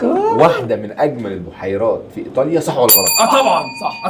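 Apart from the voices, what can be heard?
buzzer bell rung by a contestant in a quiz show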